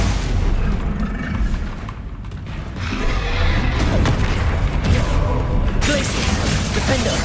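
Spell blasts from Stupefy being cast in the video game Hogwarts Legacy, a steady run of loud booming, crackling impacts and rumbling effects with no voices.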